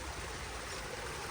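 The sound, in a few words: small stream flowing in a public park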